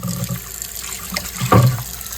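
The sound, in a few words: tap water running while washing antique item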